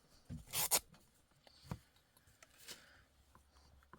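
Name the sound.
cutting a ribbon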